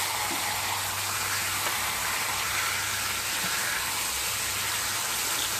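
Bacon and country ham frying in a pan with bacon grease give a continuous crackling sizzle, a steady close-up hiss with no voices.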